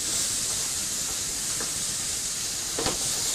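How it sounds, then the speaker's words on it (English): Onions fry in a pan with bacon, a steady loud sizzling hiss throughout with a couple of brief clinks near the end. "So I'm going to take the onions and put them in the pan with the bacon"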